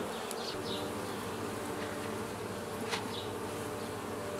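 Agitated honey bees swarming at a hive entrance, a dense steady buzzing drone with individual bees whizzing past close by, no voices.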